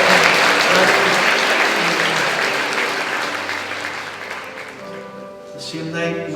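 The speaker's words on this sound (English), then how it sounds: "give them a big cheer" A church congregation at a Sunday morning service breaks into sustained cheering and applause, loud and dense at first, then gradually thinning and fading as the clapping tapers off, with a few voices murmuring near the end.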